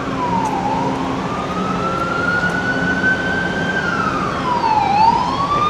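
Emergency vehicle siren wails on a Toronto city street, a loud rising and falling tone sweeping slowly over steady traffic noise, with no talking.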